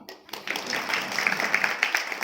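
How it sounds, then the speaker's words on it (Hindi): A crowd at a public address applauds steadily after a short pause, with a continuous wash of clapping from many hands at moderate volume and no voices on top. "हम इस पहल के सम्मान में एक बार जोरदार तालियां बजाएं"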